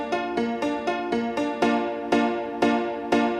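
Awesome Piano plugin with its weird setting at zero, a short melody of about nine clear piano notes with ringing overtones, struck evenly at a moderate pace, close and alone.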